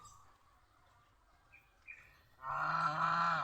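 A farm goose honks loudly and steadily for about a second near the end, after a quiet stretch with a couple of faint chirps.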